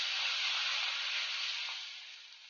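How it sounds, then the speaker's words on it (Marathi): Mustard seeds, turmeric and asafoetida hit hot oil with a steady bright sizzle that fades slightly toward the end, with no voices over it. "तेल तापलेलं आहे आपलं, त्याच्यामध्ये मी आता मोहरी, हळद आणि हिंग थोडी घालते।"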